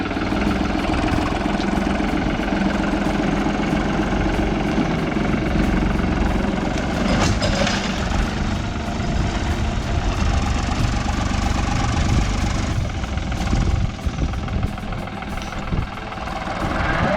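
A farm vehicle with a forklift on the front idles steadily on an Australian sheep farm, a loud, close, low engine rumble running unbroken with slight vibration.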